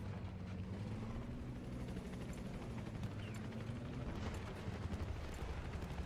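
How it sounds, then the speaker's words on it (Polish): Helicopter in the video game Battlefield 4, with a steady rotor and engine drone that stays dense and even throughout and carries a low hum without pause; no one speaks. "O, jest tutaj helikopter"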